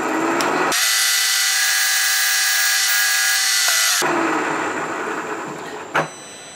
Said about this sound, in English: They say to drill it with a 7/32nd